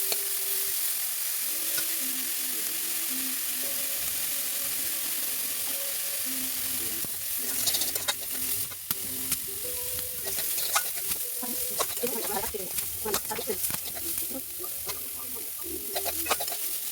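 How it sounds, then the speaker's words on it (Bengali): Mixed leafy greens sizzle in a hot pan while a utensil scrapes and stirs them, the frying steady at first and then broken by clattering stirring strokes for the rest of the clip, with no talking. "এই দেখুন আমার শাকটা প্রায় হয়ে আসছে, বেশি ভাজলে এটা খেতে শক্ত হবে"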